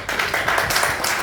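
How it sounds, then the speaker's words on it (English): A short, close burst of clapping from an annual general meeting audience, choppy and irregular with distinct hand claps across the moment. "One more round of applause"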